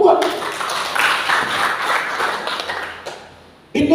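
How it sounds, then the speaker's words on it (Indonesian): A church congregation at a Sunday service applauds with a wash of clapping that tapers off. A voice then cuts back in at the end. "Beri tepuk tangan buat Tuhan."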